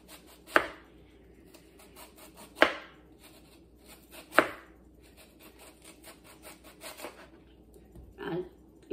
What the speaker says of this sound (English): So we're just going to slice up some kind of thin rings.